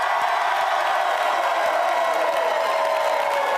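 A talk-show studio crowd voting by applause for contestant two in a Jerry Springer dancing contest, sustained loud cheering, clapping and whoops forming an unbroken wall of noise.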